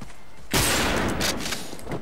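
Sniper rifle fired unscoped in the shooter game Zula, a sudden loud broadband blast about halfway in followed by a sustained noisy tail and smaller bursts, with no talk.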